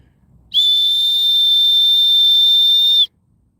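A single loud, steady whistle blast held for about two and a half seconds, close by and alone, blown outdoors in a grassy spot to call a wandering dog back.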